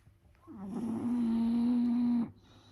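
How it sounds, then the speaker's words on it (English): A dog's single long, low snore drawn out for nearly two seconds, steady and fairly loud, with quiet room noise before and after. "ignore the snoring dog."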